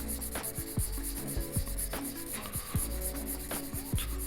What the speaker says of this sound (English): And I'm just wet sanding.